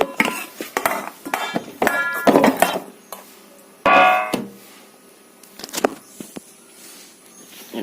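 Soft poha and coconut halwa is tipped from one pot into another, with scattered metallic clanks, scrapes and taps of a spoon and pans, loud and close, separated by brief quiet gaps.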